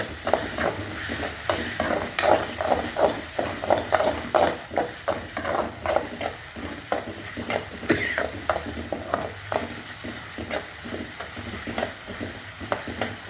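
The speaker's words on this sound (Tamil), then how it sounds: "இப்போ கொஞ்சம் ஸ்டவ் ஸ்பீட் பண்ணிவிட்டு வதக்குவோம்." Tomatoes sautéing in a hot pan on the stove, a steady sizzle under a quick rhythmic scrape of a spatula stirring through the whole stretch.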